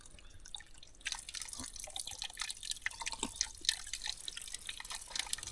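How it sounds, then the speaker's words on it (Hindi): Very cold mountain water runs and drips steadily along a forest trekking trail near Abbottabad, a close, continuous trickle with bright splashing detail and no talk. "बहुत ठंडा पानी है यहाँ पे।"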